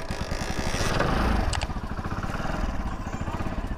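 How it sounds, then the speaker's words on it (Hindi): A motorcycle engine catches and settles into a steady, chugging idle, close and rhythmic, with a brief rattle near the start. "देख सकते हैं कि बाइक जो है अच्छी तरह से स्टार्ट हो गई है।"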